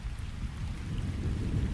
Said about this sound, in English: I only noticed the thunderstorm when it was already too late.